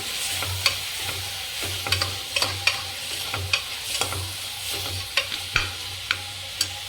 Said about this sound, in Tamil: இப்போ வந்து இந்த தக்காளி வந்து நல்லா வதக்கி எடுத்துக்கலாம்